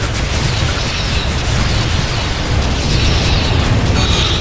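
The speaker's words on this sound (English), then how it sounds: "the Shivan bombs are powerful" Heavy, continuous rumbling blasts of Shivan bombs exploding in the space combat game FreeSpace 2, a loud dense roar of booms with no pause and no talk over it.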